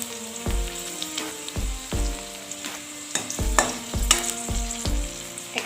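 Onions and two green chillies fry in a pan while being stirred, giving a soft steady sizzle broken by repeated scraping strokes of a spoon at a steady rhythm.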